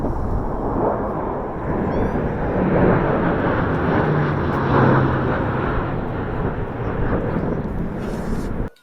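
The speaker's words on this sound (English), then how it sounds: "we hope you enjoyed that flyover, which was shot right outside of the Samaritan Hospital in Troy" Air National Guard airplane flying over near Samaritan Hospital in Troy: a loud, continuous broadband engine roar that swells and then holds steady before cutting off abruptly, heard alone without talking.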